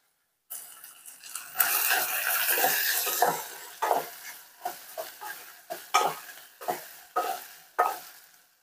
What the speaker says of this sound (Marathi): ह्यामध्ये आपण गाजर आणि बटाटा हे दोन्ही घालून घ्यायचं आहे